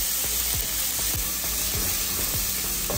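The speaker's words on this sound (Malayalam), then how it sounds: "അതിലേക്ക് ഒന്നര ടേബിൾ സ്പൂൺ ജിഞ്ചർ ഗാർലിക്ക് നമ്മൾ എടുത്ത് വെച്ച് കൊത്തി കൊടുക്കാം." Ginger garlic paste sizzles in hot ghee for biryani, a steady close frying hiss with repeated scraping stirs of a spoon in the pan.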